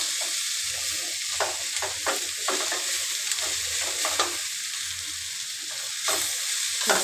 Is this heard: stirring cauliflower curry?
yes